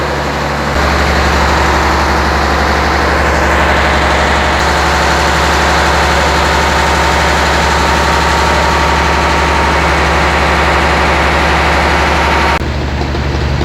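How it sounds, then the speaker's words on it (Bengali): A heavy engine in a boat's engine room drones loudly and close by, a constant low rumble that holds steady from start to finish with no voices. "পিছনটা হচ্ছে মেবি এটা ইঞ্জিন রুম।"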